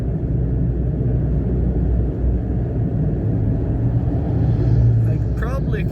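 A 2024 Mitsubishi Mirage climbs a steep bridge, its small engine giving a steady low rumble with road noise throughout, a slight swell near the end.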